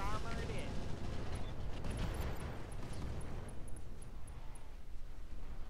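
Mech weapons firing in the Roguetech video game: a dense barrage of explosive booms and rumbling blasts rolling on continuously, loud and close, with game beeps overhead and a voice talking over it.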